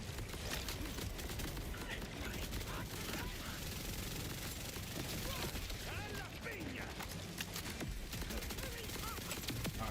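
Rapid gunfire in the Borderlands 4 shooter game, with dense bursts and volleys running continuously and loudly throughout amid game effects.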